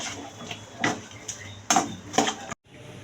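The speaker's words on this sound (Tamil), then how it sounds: "மிக்ஸ் பண்ணிக்கலாம்." A spoon stirs fried mushrooms into masala gravy in a pan for a roadside-style kaalan masala, with a handful of close, sharp scrapes and clacks against the pan and no talking.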